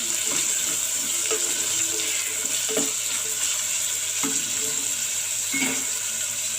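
Ginger garlic paste frying in a pan over a medium flame while making South Indian coconut rice: a steady, even sizzling hiss with a few soft stirring clinks, and no voices.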